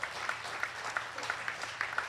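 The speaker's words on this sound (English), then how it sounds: "Give it up for all the comedians you've seen so far." Audience applause for comedians at a youth comedy night held in a church, a steady wash of clapping with scattered louder individual claps, moderately distant and continuous.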